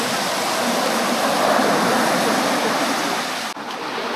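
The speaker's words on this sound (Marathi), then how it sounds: "हा बीच मस्तपैकी लाटा येत आहेत" Waves break on a beach in a steady, close roar of surf that continues without pause, with a brief dip near the end.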